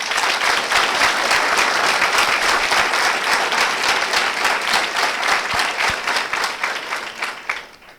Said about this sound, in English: So let us clap for we.